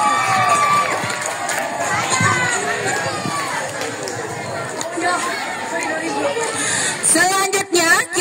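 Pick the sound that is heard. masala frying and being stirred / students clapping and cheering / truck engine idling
students clapping and cheering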